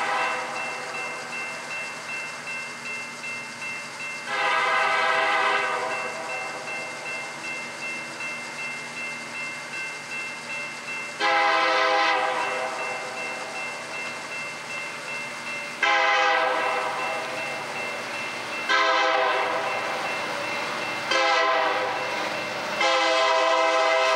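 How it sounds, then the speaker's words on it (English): Norfolk Southern freight train 125, led by a Union Pacific SD70M locomotive, passes southbound at Mableton, Georgia. Its horn sounds in several long blasts over the steady rolling rumble of the train. "this is train 125 coming south."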